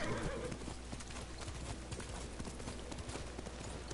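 Rapid, steady clip-clop of horse hooves trotting close by in the video game Ghost of Tsushima, with a brief whinny near the start and no talking.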